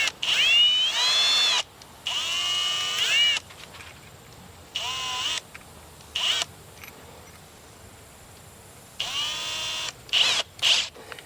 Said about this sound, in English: So I want to drill a bottom hole here.